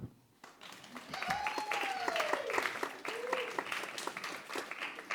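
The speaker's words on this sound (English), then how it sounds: "give me a poetry clap" An audience at a poetry slam gives a poetry clap, a sustained patter of hands heard alongside voices and a rising, falling vocal tone.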